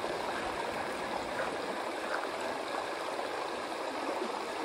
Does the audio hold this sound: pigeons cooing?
no